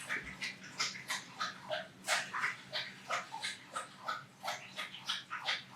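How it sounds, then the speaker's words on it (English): A dog lapping water in quick, rhythmic slurps, close by, a steady series of wet tongue splashes with no talking. "So hold on, let's let him finish drinking."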